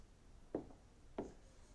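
Pen or chalk writing on a surface during a class 7 maths lesson, two short separate strokes, faint and close against quiet room noise.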